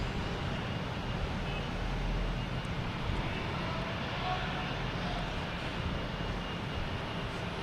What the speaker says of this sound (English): We also have a JetBlue taking off to Orlando.